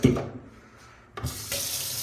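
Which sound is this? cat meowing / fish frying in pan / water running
water running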